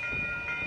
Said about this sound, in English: And that train is going southbound to San Jose.